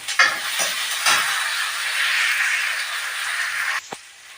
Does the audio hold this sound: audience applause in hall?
no